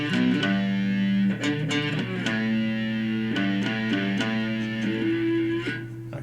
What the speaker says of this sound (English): So I'll play that lick for you with the distortion.